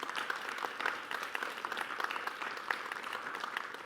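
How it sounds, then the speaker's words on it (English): Audience applause for presenters at an AIDS 2022 conference satellite session, a steady wash of many hands clapping across the whole stretch, moderately distant and fairly even in level. "why don't we give our presenters here a big round of applause"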